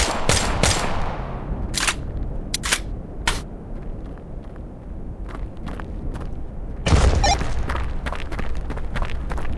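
Sharp, separate gunshots crack from the VR game Tactical Assault VR, several spaced bursts early on, then a louder blast with a thud near the end followed by more rapid shots.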